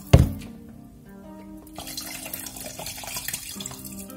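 Water poured into a cooking pot, starting with a sharp clunk, then a fluctuating splashing, gurgling stream that continues at moderate loudness with no talking.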